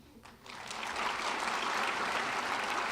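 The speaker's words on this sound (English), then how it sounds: "can we also have applause for all of the wonderful faculty, staff, and family members and friends?" A commencement crowd applauds faculty, staff and families, clapping that swells quickly from quiet into a broad, sustained roar of hands filling the hall.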